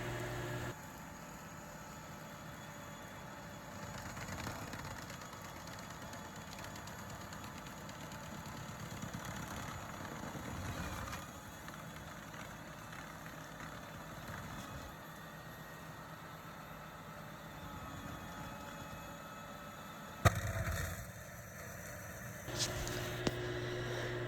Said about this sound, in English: a little slow-mo that I took of the tractor going through